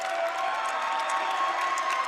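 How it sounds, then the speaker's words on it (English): A crowd at a men's college basketball game between Parkland and ICC roars and cheers after a missed free throw, a dense, steady wall of voices throughout. "Crowd's going wild off the first free throw."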